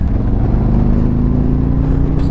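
A 2022 Harley-Davidson Electra Glide touring motorcycle accelerates onto an interstate with a loud, close, continuous engine drone that holds steady and climbs slightly as speed builds.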